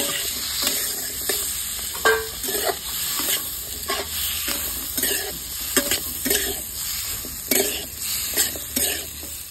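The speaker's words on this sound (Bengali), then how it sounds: "এবার পেঁয়াজ আর ক্যাপসিকাম ভেজে নেবো হালকা করে, যাতে কাঁচা গন্ধটা চলে যায়" Onion and capsicum frying in a pan, a close steady sizzle broken by frequent rhythmic scraping stirs of a spatula against the pan, with no talk.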